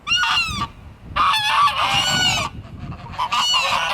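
Loud geese honking close by in Llangollen, Wales, in repeated harsh bursts, several birds calling over one another with short pauses between calls.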